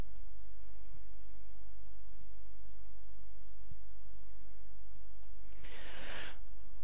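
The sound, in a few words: mouse clicking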